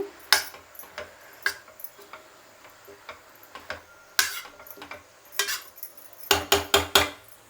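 A tempered cabbage curry being stirred in a pan, with sharp metallic scrapes and clinks of a spoon against the pan coming in irregular bursts, quiet between strokes and tapping rapidly near the end.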